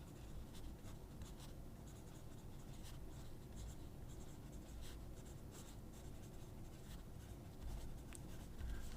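A Pentel Graph mechanical pencil scratches across paper in soft, close strokes, a faint continuous graphite scrape with small rhythmic taps as lines are drawn.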